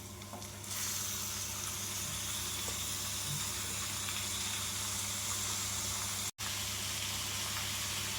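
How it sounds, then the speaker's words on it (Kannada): Chopped liver hits a hot pan and fries with a loud, steady sizzle that holds evenly until a sudden momentary cutout near the end, with no talking. "ಈಗ ನಾವು ಕಟ್ ಮಾಡ್ಕೊಂಡಿರೋ ಲಿವರ್ನ ಹಾಕೋಣ."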